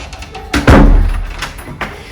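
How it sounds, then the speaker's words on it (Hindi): An apartment door in a rented one-bedroom flat in Dubai swings shut with a single solid thud, followed by a short rattle and a fainter knock as it settles, heard close up with no talking. "मैं दरवाज़ा बंद कर लूँ पहले।"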